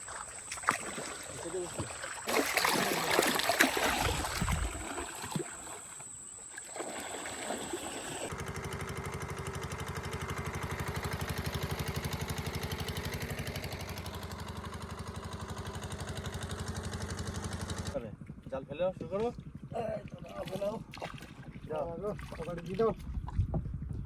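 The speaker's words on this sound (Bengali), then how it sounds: "আমরা এখন নৌকা উঠে রওনা দেবো" A boat moves along a river at the start of a fishing trip. Water and engine-like rumble mix with gusty wind buffeting the microphone and a thin steady whine, with voices talking in the later part.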